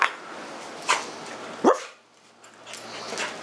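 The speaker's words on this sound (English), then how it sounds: "Feisty little doggy." A small, feisty dog gives a few sharp, separate yips and barks, spaced about a second apart, fairly close by in a quiet room.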